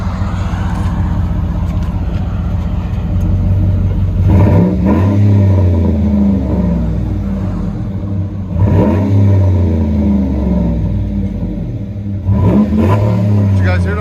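Chevy Avalanche with a 5.3L V8 and loud aftermarket exhaust, revved repeatedly so the deep rumble swells three times over a steady low idle, close and loud throughout.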